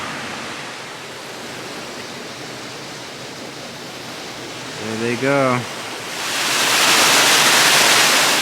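Water rushes steadily through a stream or small waterfall outdoors, a constant broadband roar that swells louder as the recorder moves closer, with a brief spoken exclamation partway through.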